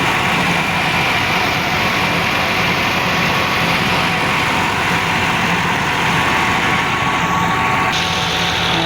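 A Massey Ferguson 375 tractor, 2010 model, runs steadily with a 54-blade rotavator made in Okara working behind it, giving a loud, continuous engine drone mixed with churning, rattling noise throughout.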